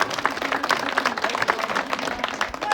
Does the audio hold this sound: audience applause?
yes